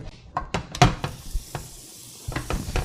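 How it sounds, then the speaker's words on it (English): A small pad of butter sizzles in a hot pan that has some Spam grease in it, with a steady frying hiss under scattered clinks and scrapes as the pan is swirled. "So I'm going to add a little pad of butter here."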